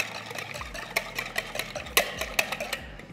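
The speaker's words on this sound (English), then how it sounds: "we need a couple eggs. And from here, I'll just go ahead and whisk that up" Eggs whisked in a bowl for a vegan ube mochi brownie batter, a run of sharp, irregular clinks and taps of the whisk against the bowl, close and fairly loud, with no talking.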